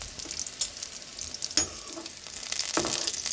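Chillies fry in hot oil in a pan for gongura chutney, giving a close, continuous crackling sizzle with a few sharper pops and light stirring scrapes.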